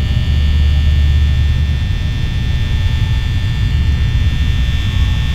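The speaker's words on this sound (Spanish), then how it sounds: "El sonido como el ventilador, yo creo." A steady, loud fan hum drones in Five Nights at Freddy's, a constant low whir with a faint tonal whine above it and no breaks.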